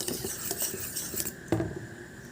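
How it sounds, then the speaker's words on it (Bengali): A spoon stirs white oil into a sweet sugar batter in a metal bowl, giving a few quick clinking scrapes against the sides over a soft background hiss. "সাদা তেলটাও মিশিয়ে নিচ্ছি।"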